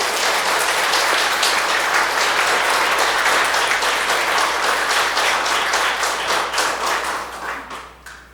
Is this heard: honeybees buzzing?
no